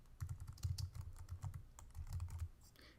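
Marinated-free keyboard clatter: rapid, close keystrokes tapped in uneven bursts on a computer keyboard while typing programming code, with no voices.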